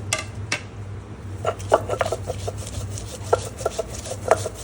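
Fried garlic, onion and chilli being ground by hand on a grinding stone, a close rhythmic rasping and rubbing with irregular gritty scrapes over a low background hum.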